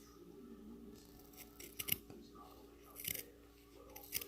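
Scissors snip through fabric, cutting an angled piece for a no-knit Barbie sweater. Close, crisp cuts come in short bursts around the middle and end, with a quiet voice talking softly underneath.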